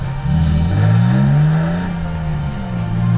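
A Nissan 350Z climbing a mountain road, its engine droning low and steady from inside the car with a gentle rise and fall in pitch as it pulls, fairly loud and uninterrupted.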